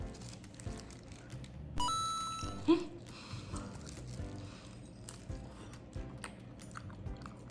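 Smoked turkey dipped in honey mustard sauce is bitten and chewed close up, with a crisp crunch of the skin followed by soft, wet chewing and a few quiet mouth sounds.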